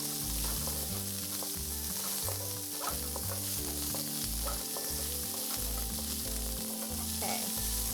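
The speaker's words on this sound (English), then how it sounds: "Listen to that sizzle." Chopped onions sizzle loudly in hot oil in a pan, a continuous close frying hiss that runs steadily throughout, with music playing underneath.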